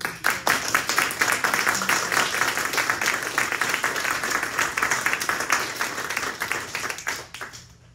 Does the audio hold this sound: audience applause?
yes